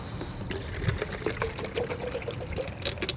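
Car wash solution poured into a container, a soft, close trickle of liquid running steadily for a few seconds with light clinks and faint background noise.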